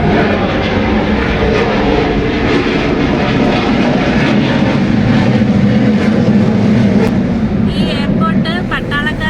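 An airplane takes off near an airport on a hot, sunny day, its engines a loud, steady roar that fills the whole stretch without letting up.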